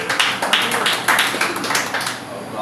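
Applause during a church deliverance service, with uneven bursts of clapping rising and falling close by under voices.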